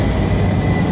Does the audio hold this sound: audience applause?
no